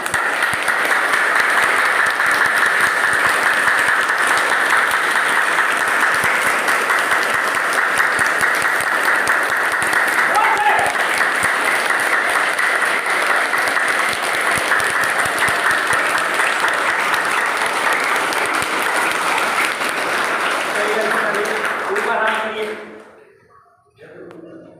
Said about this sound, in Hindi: पांचों तत्व को संगठित करने के लिए हम लोग ताली लगाते हैं